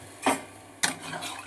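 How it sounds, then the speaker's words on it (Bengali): Water is poured into a pan of browned yam and potato pieces, making two short splashing gushes close by. "এবার আমি জল ঢেলে দিচ্ছি।"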